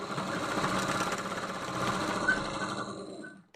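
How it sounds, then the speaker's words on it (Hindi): A noisy sewing machine running continuously in a steady, rattling mechanical drone, close and fairly loud, with no talk, stopping briefly near the end. "पहले हम आपको सिलाई मशीन चला के दिखा देते हैं कि कितना आवाज़ हमारा सिलाई मशीन कर रहा है"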